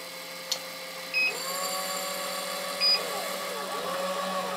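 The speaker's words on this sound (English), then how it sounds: "press enter and it will start dispensing the powder" A steady mechanical whir with a faint electronic hum runs throughout, broken by two short chirps, like an RCBS ChargeMaster 1500 electronic powder dispenser running indoors, dispensing powder charges.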